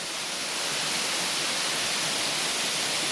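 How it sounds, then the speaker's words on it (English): Waterfall in Tasmania's North West roars as a dense, unbroken rush of falling water, loud and close with no other sounds. "I've just gone down to that waterfall."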